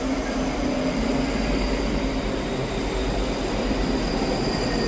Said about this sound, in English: over here is the Scotrail service from Helensburgh Central to Edinburgh Waverley